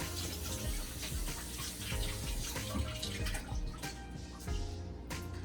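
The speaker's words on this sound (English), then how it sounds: "Let me wash my hands out there." Tap water runs steadily into a kitchen sink as hands are washed beneath it, a continuous close splashing stream with small bursts of spatter.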